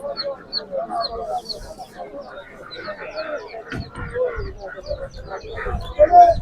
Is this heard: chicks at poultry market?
yes